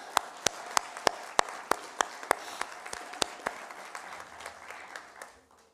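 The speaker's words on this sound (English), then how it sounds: "round of applause for Portneuf Medical Center" Applause at a family medicine graduation ceremony, with sharp, evenly spaced claps standing out clearly near the start, then thinning and softening into a looser, fainter patter by the end.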